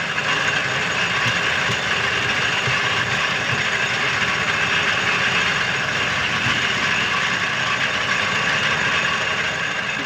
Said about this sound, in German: Wir schreiben das Jahr 1902, der Mercedes Simplex.